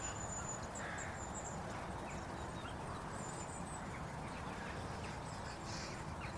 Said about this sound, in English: There's various alarm calls going on, isn't there?